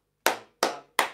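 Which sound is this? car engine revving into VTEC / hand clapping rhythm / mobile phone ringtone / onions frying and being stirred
hand clapping rhythm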